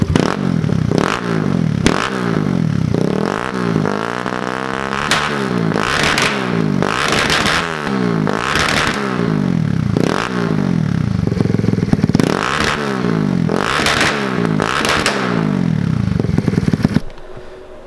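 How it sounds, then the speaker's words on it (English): A fuel-injected Kawasaki KLX110 dirt bike engine idles to warm up, then revs repeatedly in rising and falling sweeps, loud and close with a raspy exhaust crackle. "Let's see what it sounds like. I'll let it warm up for a second"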